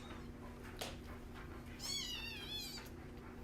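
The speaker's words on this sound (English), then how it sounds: "There's our baby kitty." A small kitten gives a thin, high meow close by, with a faint earlier squeak over a quiet steady room hum.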